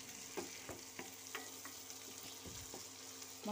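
Black mustard seeds fry with ground onion, garlic and ginger paste in hot oil, a quiet steady sizzle broken by small pops and spoon scrapes.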